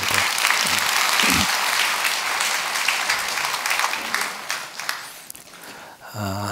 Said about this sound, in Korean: 우리 박수 한번 부탁합니다